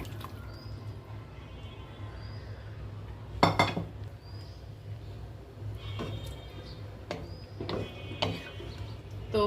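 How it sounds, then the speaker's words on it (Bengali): Hilsa fish curry poured from a small pan into a larger one: scattered metallic clinks and scrapes of cookware over low wet sounds, fairly quiet and close, with no talking. "এখন আমি ঢেলে দিব বড় একটা প্যানে"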